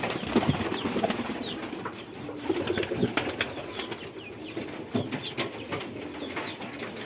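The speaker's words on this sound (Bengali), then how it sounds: "কবুতরের বাচ্চা এখানে 2টা" Pigeons kept with two chicks in a coop, one sitting on eggs, coo softly against a busy background of rustling and occasional wing flaps, all at moderate, steady level with no talk.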